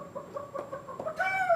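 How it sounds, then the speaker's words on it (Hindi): A rooster gives short, close harmonic clucks in a steady patter, then a longer rising call at the end, with no talking over it. "लेकिन ये तो मुर्गा है।"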